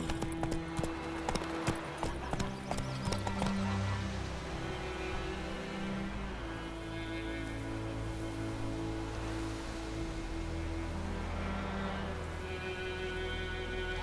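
Horse hooves clip-clopping in The Witcher 3: Wild Hunt, a rapid run of crisp hoof strikes for the first few seconds, then a softer, steadier gait under game ambience and music.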